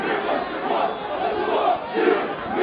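Protesters outside Verkhovna Rada, the Ukrainian parliament, shout slogans in unison as a loud crowd, with rising and falling chanted waves and no single voice standing apart.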